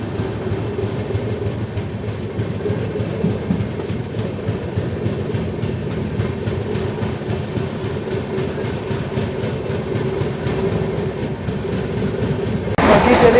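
Express train running at speed on Indian Railways between Sultanpur and Lucknow, heard from on board as a steady rumble with rhythmic clickety-clack wheel beats, swelling into a louder rush at the end.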